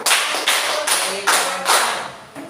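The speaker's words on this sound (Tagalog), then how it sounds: "Bigyan natin ng 5 palakpak ang bawat isa" Classroom group applause, five bursts of clapping by a class of students for one another, arriving in sharp, even rhythm about every half second and close and loud, with no voices.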